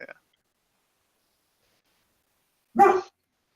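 A single dog bark, close and fairly loud, rings out once after a long stretch of silence, with only a brief faint blip at the very start.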